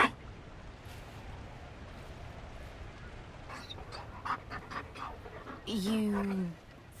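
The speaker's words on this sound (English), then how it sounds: "You found a dog?" A Mabari war dog pants in Dragon Age: Inquisition, a soft steady breathing that runs faintly under the scene and ends in a short whimpering whine near the close.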